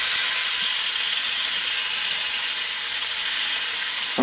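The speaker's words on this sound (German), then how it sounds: "Und dann tun wir das ganz einfach mal nochmal kurz anbraten, anbrutzeln, angrillen" Spare ribs searing on a grill give a steady, close, loud broadband sizzle and hiss that runs unbroken throughout, with no talking.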